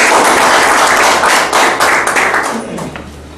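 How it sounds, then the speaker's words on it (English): Loud, dense audience applause at a Toastmasters meeting, following the introduction of a general evaluator, with broadband clapping sustained throughout and gradually fading toward the end, no speech over it. "Give a big round of applause to General Avalia."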